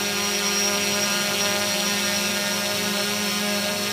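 A Fimi X8 SE camera drone hovering and lifting off indoors, its propellers giving a steady, close, whining buzz with a constant drone throughout and no voices.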